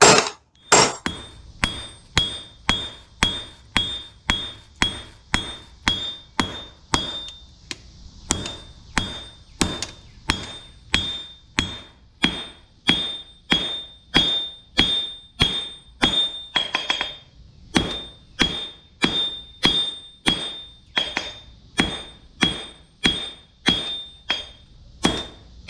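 Hammer blows on an anvil while forging a Viking bearded axe: a long run of sharp ringing metallic strikes at a steady, quick rhythm, loud and close, with a brief pause in between.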